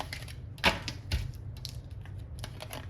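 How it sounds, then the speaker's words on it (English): Tarot cards shuffled by hand, giving a few crisp riffling bursts and soft card slaps that come close and clear with no talk over them. "We're gonna shuffle some tarot. Shuffle some tarot cards."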